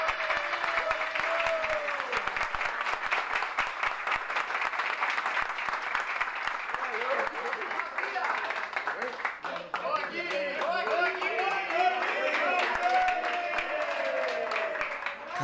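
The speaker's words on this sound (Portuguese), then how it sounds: "Foi aplaudido pelo time todo," A football team claps for player Breno in the locker room after a match against Aimoré: sustained, crowded clapping with cheers, and voices shouting and talking over it throughout.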